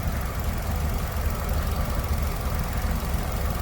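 A Nissan Rogue engine idles with a low, uneven rumble, a steady droning vibration that shudders slightly, close by and without speech.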